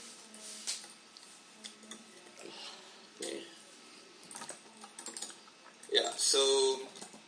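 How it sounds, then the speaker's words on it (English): Keyboard typing at a computer in an office-like room, with scattered clicks and short bursts of keystrokes, a louder flurry near the end, and people talking intermittently. "So I can type it out."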